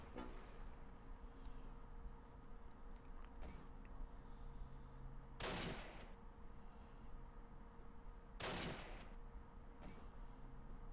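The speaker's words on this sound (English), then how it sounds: "Whereas none of the mortar shells have landed close at all." Mortar shells burst in the war game Close Combat Last Stand Arnhem: two separate booming explosions about three seconds apart, fairly distant and quiet over a low battlefield rumble.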